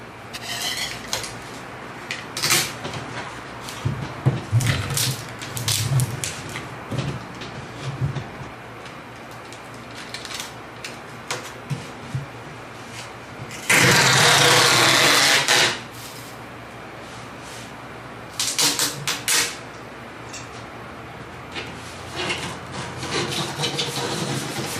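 Packing tape is pulled and pressed onto a cardboard balikbayan box, with short rubbing and scraping strokes, handling thumps and one loud, sustained ripping screech of tape unrolling in the middle, all close up.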